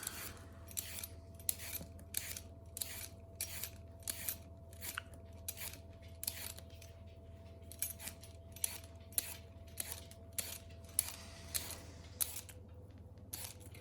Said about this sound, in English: peel the carrot